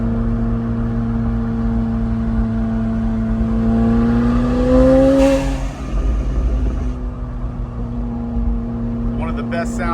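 McLaren 720S Spider, a 2022 car fitted with a titanium exhaust, holds a steady engine drone that swells into a rising rev around the middle and then settles back, with someone talking over it.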